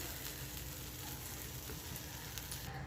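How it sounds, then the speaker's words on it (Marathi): Pav bread toasting in butter on a hot tava produces a faint, continuous, even sizzle with no talking. "आता तवा पण छान तापला आहे त्याला बटर लावून त्याच्यावर हे पाव ठेवूया"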